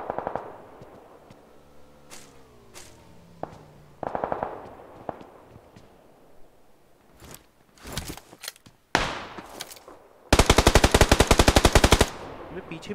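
Gunfire in the battle royale game PUBG Lite: scattered single shots and short bursts, then a loud rapid automatic burst lasting about two seconds near the end.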